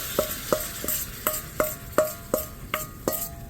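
A spoon stirs sauce mix into beef and broccoli in a pan, scraping in about ten evenly spaced strokes over a soft sizzle, close and fairly loud.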